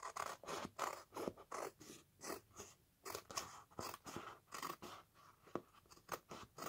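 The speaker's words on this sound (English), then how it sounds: "I need to cut it. Just let me cut this." Scissors snip through a paper window envelope in a quiet room, giving a series of soft, crisp cuts at a steady rhythm, close but faint.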